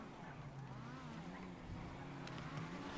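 Car engine in a GTA roleplay game, a steady drone with a slight rev rise, continuous and fairly close throughout.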